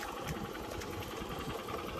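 A small motorcycle engine revs steadily with a buzzing, rattling drone, close and constant throughout, as the bike is freed from mud.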